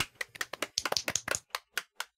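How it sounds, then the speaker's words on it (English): Several people clapping in a short burst of applause, sharp claps coming quickly at first then thinning out to a few scattered final claps. "Everyone clap."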